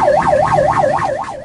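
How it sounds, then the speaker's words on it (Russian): An ambulance siren wails loud and close in a steady rising-and-falling cycle, repeating about six times with no other sounds over it. "Водитель автомобиля намеренно не уступает дорогу машине скорой помощи."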